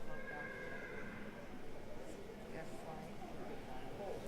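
Horses at a horse show give a faint whinny amid soft ambient noise, quiet and distant with a low, steady background.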